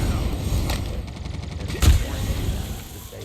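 Shotgun fire in the Call of Duty Mobile game played on an iPad: a sharp blast stands out among scattered crackling gunfire over busy game background noise.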